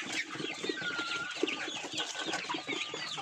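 Young chickens of different breeds clucking and chirping together in a coop, a dense, busy chorus of overlapping cheeps and clucks at close range, steady throughout with no talk.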